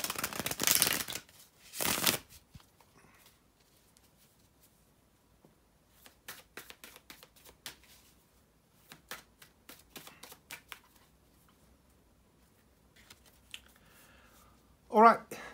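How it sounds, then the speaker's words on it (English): Tarot cards being shuffled up close, with a couple of loud riffling bursts and scattered soft taps and slides of cards in between. "bear with me a second, guys, to shuffle the tarot cards"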